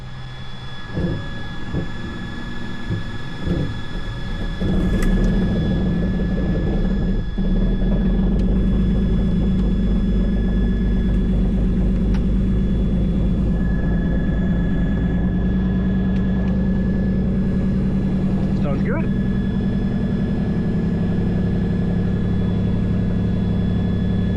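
A 1960 Beechcraft Model 50 Twin Bonanza with an injected Lycoming engine, hot, cranks briefly and catches, then settles into a loud, steady, close propeller-engine drone that continues without pause.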